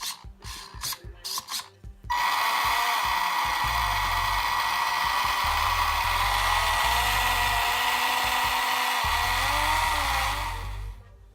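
After a few short clicks and whirs, the motor of a Tamiya TT02B Neo Scorcher RC car spins up into a steady, close, high-pitched electric whine with gear rasp, running several seconds before winding down.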